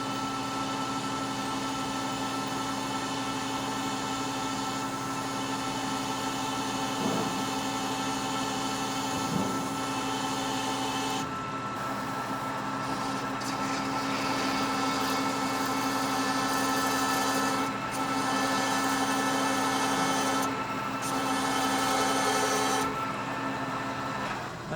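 A Pacemaker lathe turns a heavy chamfer on a large steel spacer, a steady machine drone with a whining tone and scraping cutting noise that shifts partway through as the tool engages, continuous and close with no voices.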